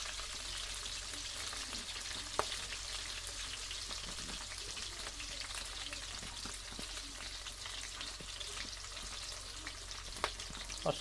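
Green chillies fry in a pan for a village-style fish curry, producing a soft, continuous crackling sizzle with a few sharper pops, quiet and steady throughout.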